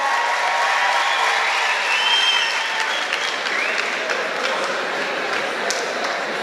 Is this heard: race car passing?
no